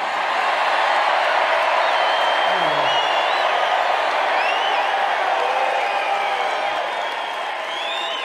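A rally crowd at a stadium in Allentown, Pennsylvania, giving loud, sustained cheering, whooping and applause that fills the whole stretch without a break.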